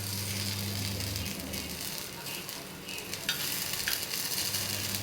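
Paniyaram batter frying in a nonstick pan, a steady close sizzle with light stirring scrapes and a low hum fading in and out, no voices.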